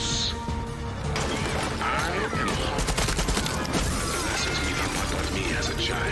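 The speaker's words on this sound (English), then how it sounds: "I don't know who's shooting at me" Dense, continuous gunfire rattles through a firefight in the video game Far Cry 6, loud and close, with bursts overlapping crashes and mechanical clatter and no pause.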